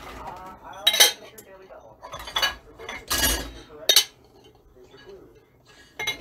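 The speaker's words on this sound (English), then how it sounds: "Alright, I'm emptying the dishwasher." Dishes and cutlery clinking and clattering as a dishwasher is emptied, several sharp bursts of loud clanks separated by brief pauses, close by.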